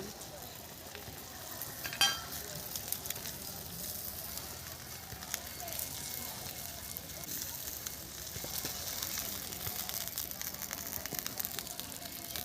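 Lote fish frying on a banana leaf with ground spice paste, a continuous close sizzle and crackle of hot oil, with a sharp scrape and clatter as the fish is flipped early on.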